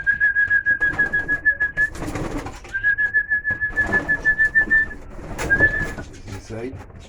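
Small birds, including pigeon- or dove-like calls, give a rhythmic pulsing coo alongside long sustained whistled notes, repeated several times close by, with a voice talking at moments between the calls.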